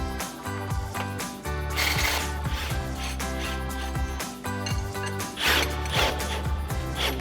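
Ratchet with a 21mm socket turning a lower strut mounting bolt on a RAM 1500 front suspension, giving steady rapid pawl clicking and mechanical clatter, close and fairly loud, with no talk.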